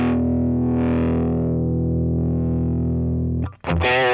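An electric guitar runs through the Centa OD overdrive of a Boss Katana MK2 amp, playing one long sustained, distorted note that rings out before a brief cut and a fresh, gritty strum at the end.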